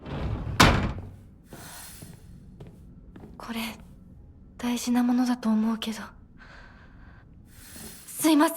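A door slams once with a sharp, loud bang early on in the game Silent Hill, followed by quieter game ambience and later bursts of voices.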